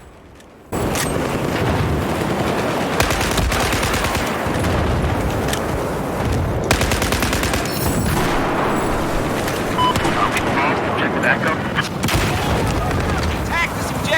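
Machine gun fire in Battlefield 2042 on the Gulf of Oman map: loud, dense bursts of automatic gunfire with booming explosions, filling the whole stretch after a brief quiet start.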